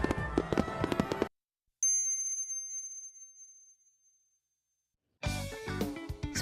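A large fireworks show in Sakura, Japan, billed as Kanto's biggest with 18,000 shots, bursts in dense crackling volleys. A lingering ringing tail fades into silence before another loud barrage begins.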